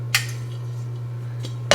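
Cast iron and other skillets are shifted around during a kitchen clear-out, giving two sharp metallic clanks, one near the start and one at the end, over a low steady hum.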